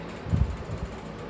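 A sewing machine stitching a blouse gives a short burst of low mechanical clatter and whirring, close and without speech.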